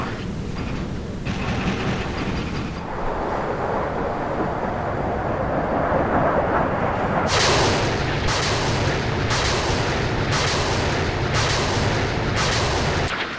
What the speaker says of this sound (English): All of the missiles coming out.